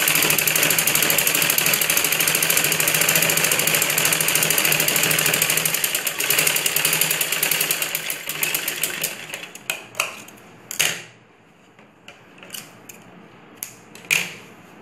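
A sewing machine stitches the belts of a ladies' blouse with a loud, continuous rapid whir for about eight seconds, then slows into short stop-start bursts and clicks before falling quiet.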